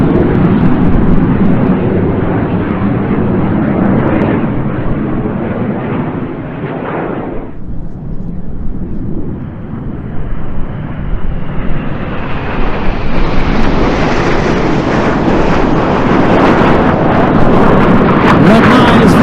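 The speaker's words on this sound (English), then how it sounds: "Each aircraft now turns hard up to 6G away from each other, turn the Boomerang into Cyclone Slingshot." Red Arrows BAE Hawk jets roar through an airshow display over Eastbourne, breaking hard into a turn, the loud continuous jet noise dipping briefly before swelling again with rising whine and wind buffeting.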